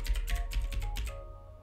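A burst of quick keystrokes on a computer keyboard as text is typed into a Photoshop text box, close and fairly loud, then stopping into near silence.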